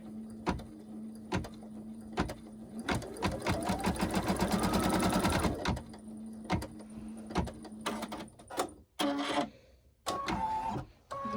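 A sewing machine runs a placement stitch on the body of a stuffed gnome, with a steady, loud mechanical burst in the middle and shorter start-stop runs and clicks around it. No one talks.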